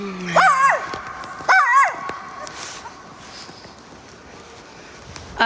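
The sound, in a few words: person imitating a dog barking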